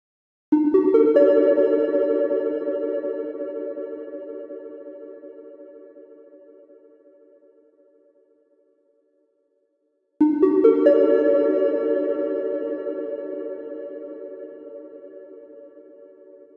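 Two synth notes pass through the Plateau reverb module by Valley with diffusion at maximum. Each bright tone smears into a long, washed-out tail that fades slowly over several seconds.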